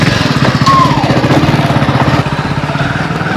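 A small vehicle engine running loud and close, a steady rapid low putter that shifts slightly in pitch partway through, with no voices over it.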